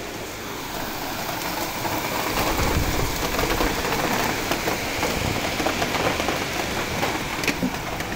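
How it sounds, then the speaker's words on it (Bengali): Light rain falls steadily and fairly faintly outdoors, a soft continuous patter with no talking. "বৃষ্টি পড়ছে আবার অল্প অল্প"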